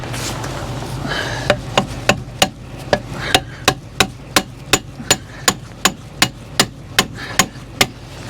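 A copper hammer strikes a bearing in a run of about twenty sharp metallic blows at an even, steady pace, close and loud over a low background hum.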